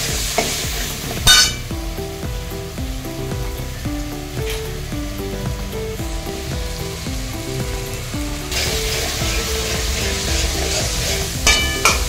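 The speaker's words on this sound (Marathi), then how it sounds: "आता यात मी बटाटा आणि वाटाणा सोडून याला चांगले आता परतून घेते तेलात" Potatoes and peas fry in hot oil for a biryani, sizzling steadily up close while a spoon stirs and scrapes against the pan, with background music playing and no talking.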